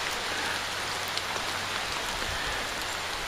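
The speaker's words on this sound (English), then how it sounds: "It's kind of steady rain." Steady rain falls outdoors on a wintry Christmas Day, an even, close patter of drops hissing continuously with no talking over it.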